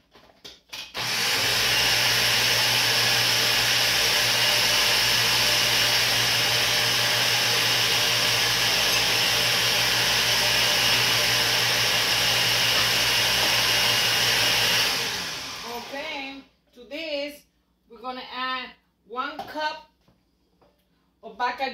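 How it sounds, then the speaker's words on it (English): A loud, steady motorized whir of a blender mixing coquito runs continuously for about fifteen seconds, then stops abruptly, followed by a person talking. "I'm gonna blend."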